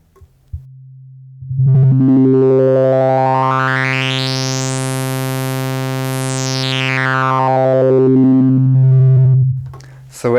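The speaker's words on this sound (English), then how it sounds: "So let's set the filter resonance to the maximum" Casio FZ-1 sampler playing a held low note with filter resonance at maximum, the resonant peak sweeping slowly up into a piercing whistle and back down over several seconds, loud and distorted, alone without talk.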